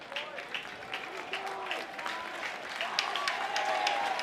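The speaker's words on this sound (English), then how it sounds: "Manning's going to get a heck of a round of applause as he departs here." A ballpark crowd at a Kansas–Arkansas college baseball game gives a steady round of applause as the pitcher leaves the mound, broad clapping and cheering holding at an even level throughout, with a commentator talking over it.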